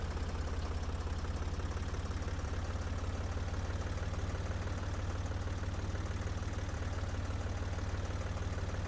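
Tractor engine idling in the farming video game Professional Farmer 2014, a steady low rumble with constant vibration running alone throughout.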